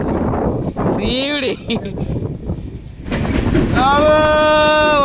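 The Araku Valley train runs along the hill edges near Visakhapatnam with a steady, loud rumble of wheels on rails and high squealing tones, buffeted by wind noise.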